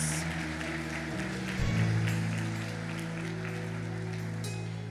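Church congregation applauding steadily during a Portuguese-language worship service, a dense, sustained clapping that swells briefly before holding level to the end.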